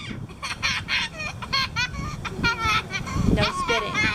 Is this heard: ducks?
yes